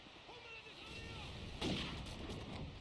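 Gunfire in the video game Call of Duty 4 during a competitive match, a faint, muffled burst of shots around the middle, with low background noise throughout and no clear talk.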